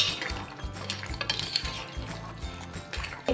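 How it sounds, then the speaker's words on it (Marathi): A spoon stirs a Marathi-style crab curry in a pot after salt is added, with close clinks and scrapes against the metal and soft liquid sloshing in an irregular rhythm. "पुन्हा आपण मिक्स करून घेऊया"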